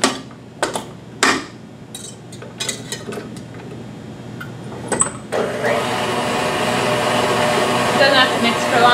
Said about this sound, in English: So I'm just going to throw that onto the mixer real quick.